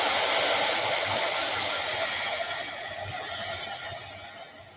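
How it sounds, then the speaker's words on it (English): Steady broadband rush of a heat tool blowing hot air during a sketching session, loud and continuous throughout with a slight dip midway, no talking. "let's hit this with the heat tool"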